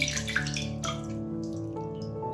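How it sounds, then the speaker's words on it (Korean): Water splashes and trickles as a Lush Whoosh shower jelly bar is wetted, a close, continuous running-water sound with small splashy bursts. "젤리바을 꺼내서 물을 묻혀줍니다."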